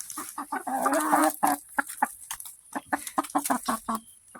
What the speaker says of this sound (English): It's actually my first flock that spends more time in the coop than any of my other ones have.